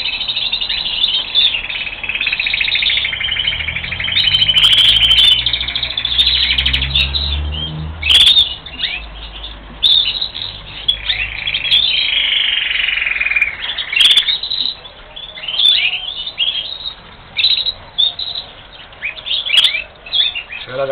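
Canaries in cages in an aviary, set apart one to a cage, chirp and trill densely and close by, with lively overlapping song and a few wing flutters and knocks.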